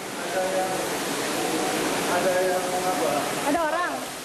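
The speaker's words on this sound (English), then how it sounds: "cowering on high ground as the rush of water passed" Tsunami seawater rushes through a town, a continuous roaring wash of water heard close and loud, with a voice rising briefly near the end.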